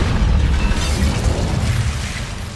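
Incendio fire spell cast in the Hogwarts Legacy video game, a loud continuous fiery whoosh and rumble with deep low-end roar lasting a couple of seconds, slowly easing off.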